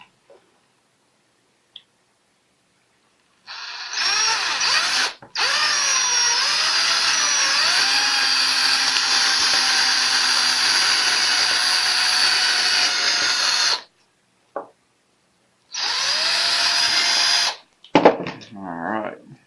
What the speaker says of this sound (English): Look where you're going to drill your hole for your pin.